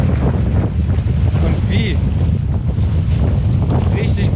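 Strong wind roars steadily into the microphone outdoors on a wild coast, a dense continuous buffeting that persists throughout, with a brief spoken question near the start.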